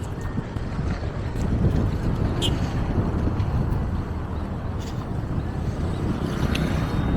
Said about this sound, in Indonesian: Suasana dingin, angin kencang, nambah dingin kita di sini nih.